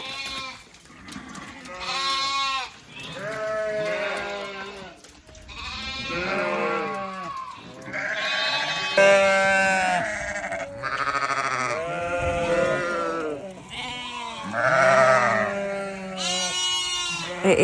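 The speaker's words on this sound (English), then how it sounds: "we're currently just trying to move the lambs out of the way because they're quite noisy all around the pen" Sheep and lambs bleat continuously in a crowded pen, many overlapping loud calls close by with no pause for the full length.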